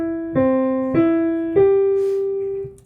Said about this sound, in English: And that's the descending tonic triad arpeggiated.